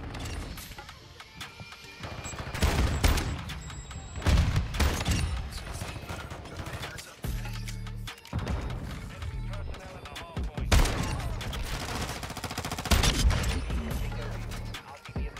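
Expedite 12 shotgun blasts in Modern Warfare 2, a run of sharp, heavy shots in clusters with mechanical clatter between them, a voice talking over parts of the firing.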